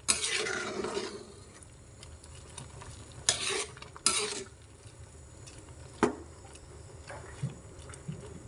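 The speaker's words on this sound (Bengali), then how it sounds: "পেঁপে দেওয়ার পরে আবারও নেড়ে ছেড়ে নিব ভালোভাবে।" Papaya and milk are stirred in a cooking pan over a soft sizzle, with a few sharp utensil scrapes and clinks against the pan at irregular intervals, close and moderately quiet.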